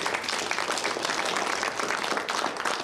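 Loud, dense applause from a crowd of Green Bay Packers fans at a Packers Fan Hall of Fame induction, sustained clapping filling the room without a break.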